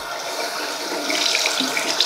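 A bathroom sink tap runs steadily for face washing, a close, continuous hiss of flowing water splashing into the basin, with no voices.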